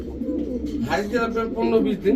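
Pigeons at a pigeon seller's stall, including a shaded Jhorna pair, coo in low throaty pulses, close and fairly loud, with people talking nearby over them.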